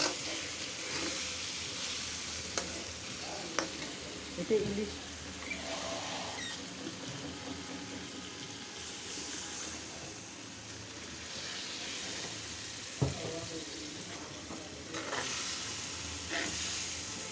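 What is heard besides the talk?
hilsa fish frying in a pan with olives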